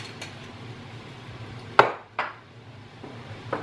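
A spoon clinks against a pot while stirring curried cauliflower soup with honey and white wine vinegar, giving a few sharp metallic taps spaced apart over a quiet kitchen background.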